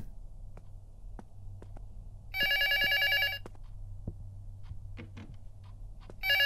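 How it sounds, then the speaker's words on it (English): An old-style bell telephone rings in a photorealistic horror video game, with one loud ring burst midway and another starting at the end. Scattered quiet clicks and a low room hum fill the gaps between rings. "Oh no, don't pick up the phone."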